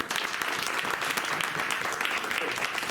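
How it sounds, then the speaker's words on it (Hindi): Steady clapping from a group at a work-at-height practical training session, dense and even throughout without pauses. "आप ही के लिए ताली बजा रहे हैं।"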